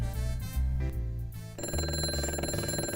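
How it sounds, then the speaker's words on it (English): A telephone ringtone sounds during a live call-in tech show, loud and close, a steady repeating electronic melody that fills the whole stretch with no talking over it. "The phone's already ringing."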